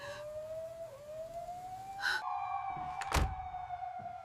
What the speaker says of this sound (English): the first siren wailed